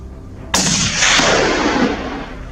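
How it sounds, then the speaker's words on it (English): A single loud gunshot cracks out at night on a Texas farm during a wild hog hunt, then rolls into a long, booming echo that slowly fades. "the sound of gunfire sent the hogs scrambling in all directions"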